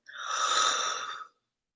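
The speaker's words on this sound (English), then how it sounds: "And exhaling, another deep breath." A single deep breath exhaled slowly and evenly during guided meditation, a soft airy rush lasting just over a second, close and alone, fading smoothly to silence.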